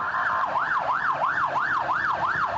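Wailing ambulance siren in central Bangkok traffic, a steady rising-and-falling sweep repeating about every half second, loud and close throughout with no talk over it.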